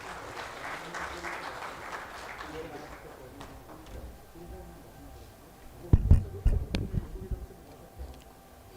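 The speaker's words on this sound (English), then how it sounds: "Let us welcome him with a big round of applause." Audience at an industrial park road show event claps to welcome a keynote speaker, moderate applause fading out over a few seconds, followed by a few close thumps and handling knocks near a microphone.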